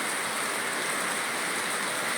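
A dense, steady hiss of heavy rainfall in Neyyattinkara, Thiruvananthapuram, fills the air without pause, uniform and loud, with no voices.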